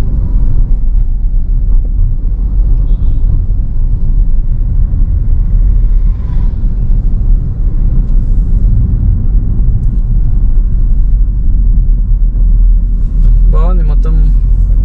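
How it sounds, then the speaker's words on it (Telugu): Road traffic rumbles steadily on a national highway in Kerala, a loud low drone of car and engine noise heard from inside a moving vehicle, with brief higher tones near the end. "ట్రాఫిక్ కూడా ఉంది."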